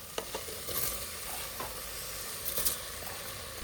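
Washed rice frying with softened tomatoes and turmeric in a pan, a steady sizzle with a few light stirring scrapes, close and moderately loud, no voices.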